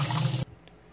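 Water runs and splashes while rinsing out an RO water filter housing, a loud gushing pour that stops suddenly after under half a second, leaving a faint drip.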